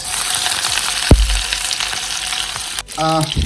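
Onion hits hot mustard oil in a reheated wok, giving a loud, close, continuous sizzle with a sharp knock partway through and a clatter of utensil stirring near the end.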